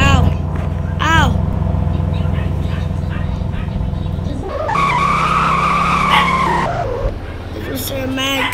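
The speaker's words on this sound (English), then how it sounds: "This was a mad car crash" A car in a Roblox GTA-style video game drives with a constant engine drone, then tires skid in a loud, sustained screech for a couple of seconds, with a voice breaking in over it.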